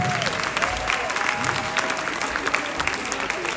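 Audience at a live talent show in Belgium claps steadily in a dense, continuous patter of applause with some crowd noise underneath.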